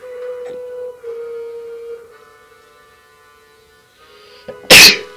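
A character in the video game Tearaway Unfolded lets out a loud, sharp sneeze near the end, preceded by a steady tonal hum and a softer rising breath.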